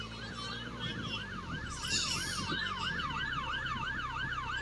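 Wailing sirens rise and fall steadily over a low engine rumble, loud and continuous, with a brief burst of hiss partway through.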